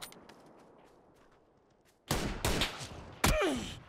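Gunshots crack in the video game PUBG, a few loud, sharp reports arriving in quick succession after a quiet stretch, with a voice reacting briefly near the end.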